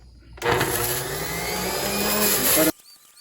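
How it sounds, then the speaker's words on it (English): A juicer grinds cucumbers and lemon with a loud, steady motor roar that starts abruptly, runs for a couple of seconds and cuts off, heard close with no talking. "So get yourself a juicer and crank it."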